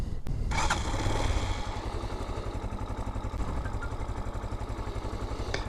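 A motorcycle engine cranks and catches with a quick burst, then settles into a steady, pulsing idle close by.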